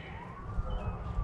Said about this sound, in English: ambulance siren going in the background